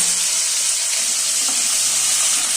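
Chopped potatoes frying in a hot pan, a loud, steady hiss and sizzle that holds evenly throughout with no speech.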